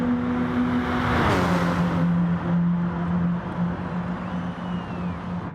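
Race car engine at Fuji Speedway in Gran Turismo Sport, a loud steady close drone whose pitch dips as the car shifts down into a corner, with road roar underneath and no talking.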